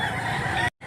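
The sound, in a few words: chicken (rooster) for sale at market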